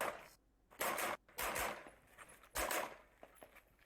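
Pistol shots at a practical shooting match, several sharp, loud cracks in quick, irregular succession with short echoing tails outdoors.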